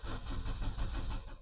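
A Honda Civic MB2 with a 1.4 engine cranks and catches, a close, rough mid-pitched engine rumble holding steady for a moment with faint background noise.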